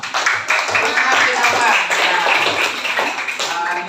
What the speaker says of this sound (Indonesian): Oke, tepuk tangan untuk kelompok Usman bin Affan